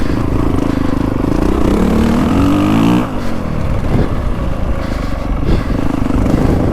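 A 2025 Honda CRF450R Works Edition dirt bike accelerates hard in second gear, its loud close engine climbing in pitch, dipping briefly at a shift, then pulling on with a rough, steady roar.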